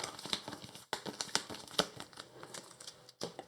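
Arkham Horror card game cards being shuffled by hand, a quick series of crisp riffling and crinkling bursts, close and fairly quiet, no talk.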